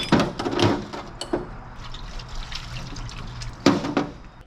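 Car parts from a CV boot job are dropped into the liquid of an ultrasonic cleaner, giving a few close splashes and watery clatters, the first cluster near the start and another near the end.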